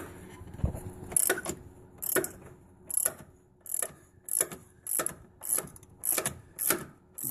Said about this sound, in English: this was the hardest bolt out of all of them to release.